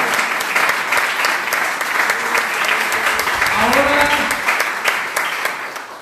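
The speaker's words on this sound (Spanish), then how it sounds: "Un aplauso para el Señor." A church congregation applauds during a Spanish-language sermon, steady, loud massed clapping for several seconds with voices rising briefly over it.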